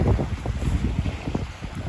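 Blustery wind buffets the microphone in rumbling low gusts while fishing, with a choppy water wash underneath and no voices.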